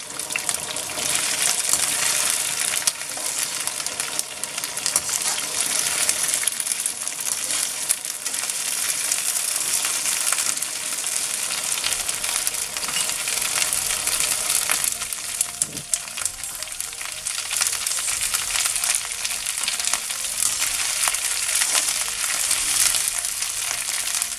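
Okra frying in a pan over high heat for a Bengali okra bhaji, a constant loud sizzle with watery hissing, some stirring noises partway through, and no talking.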